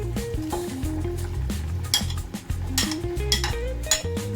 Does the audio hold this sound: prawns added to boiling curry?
yes